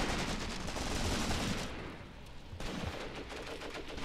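Sustained gunfire from the Cross of Iron: Mius Front war game, German defense against Soviets, a dense continuous crackle of rifle and machine-gun shots with a short dip midway before the firing resumes, loud and without talk.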